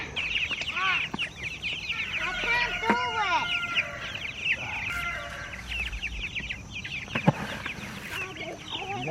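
Chickens cluck and squawk repeatedly, close by, in irregular bursts with a few rising calls over soft background noise.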